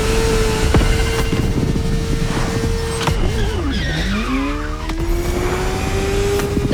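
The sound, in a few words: car drifting with tire squeal in The Crew Motorfest video game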